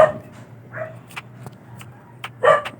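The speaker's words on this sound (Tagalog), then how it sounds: "Yung aso namin, ang ingay-ingay." A dog barks a few times in short, sharp yaps, spaced irregularly against a quiet room with a low steady hum.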